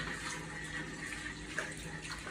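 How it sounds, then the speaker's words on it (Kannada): Water rushes and pours steadily as it floods a kitchen room, a continuous hiss of running water at moderate level with no voices. "ನೀರು ತುಂಬೋಗ್ಬಿಡೈತೆ."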